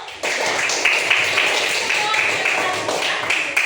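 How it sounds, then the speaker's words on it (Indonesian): A classroom of students clapping on a teacher's cue, a steady wash of hands that sits under some voices and continues for a few seconds. "tepuk tangan dong"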